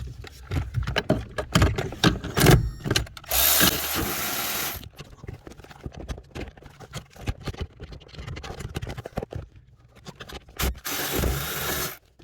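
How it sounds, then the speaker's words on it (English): Ratchet wrench loosening two 12 mm bolts on an Acura RSX Type S during clutch master cylinder work, heard as close, bursty clicking ratchet strokes with metallic clatter and pauses between runs. "So we're going to go ahead and take off those two 12s next."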